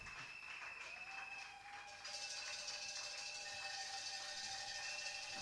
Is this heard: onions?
no